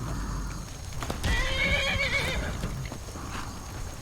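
A horse in the video game Skyrim (modded) gives a loud, drawn-out whinny lasting about a second, with steady hoof clip-clops running underneath throughout.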